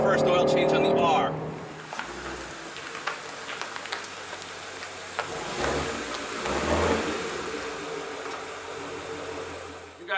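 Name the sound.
Shelby GT350R engine warming up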